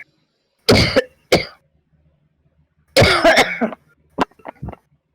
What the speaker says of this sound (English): They want me to cough.